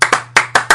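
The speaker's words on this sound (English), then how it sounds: "why do you think we're clapping?" Several people clap hands in a short burst of four sharp, loud claps with uneven gaps, close by and with no talk over them.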